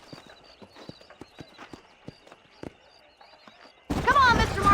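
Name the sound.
horse hooves clip-clop in video game Red Dead Redemption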